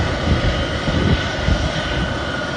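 A military transport aircraft at Louisville, Kentucky airport runs its propeller engines, giving a loud, steady droning roar from close range with no talk over it.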